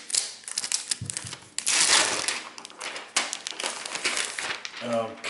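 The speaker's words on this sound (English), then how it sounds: "Let's go ahead and take this plastic off." Plastic protective film crinkles and rustles as it is peeled off a new Microsoft Surface 2 tablet, with close, irregular bursts of crackling lasting several seconds.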